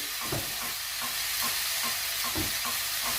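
Eggplant filling being stirred in a frying pan, with repeated spoon scrapes at a slow, regular rhythm over a constant soft sizzle, close and alone without talk.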